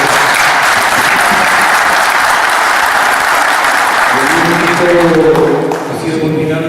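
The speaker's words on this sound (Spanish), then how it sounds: "le pido un aplauso" Seminar audience at a heavy-industry mining and metalworking event gives sustained, loud applause that carries on throughout, with a voice starting to speak over the clapping near the end.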